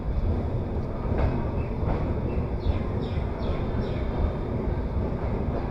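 A passenger train pulling out of Faridpur railway station in Bangladesh, heard from inside as a loud, continuous low rumble with faint rhythmic wheel clatter and wind noise, no talk.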